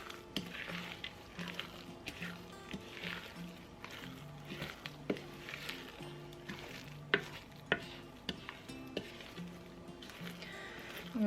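A spoon folds added ingredients into a stiff baking mixture, making soft wet squishes and scrapes in an irregular rhythm, with occasional sharper taps against the bowl, close and fairly quiet.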